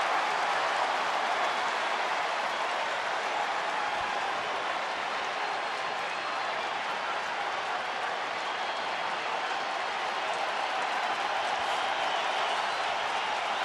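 A baseball stadium crowd in the eighth inning of a scoreless game roars steadily and loudly, with cheering and clapping sustained throughout as a dense, unbroken wash of noise.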